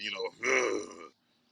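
A man imitates a burp with a guttural vocal grunt, one drawn-out croaking sound following a short bit of speech, close and loud, then silence.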